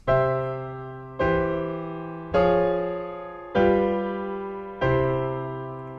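Five sustained piano chords, a progression using a Neapolitan sixth chord in a major key, are struck one after another at an even pace, each ringing and fading before the next, with no talking.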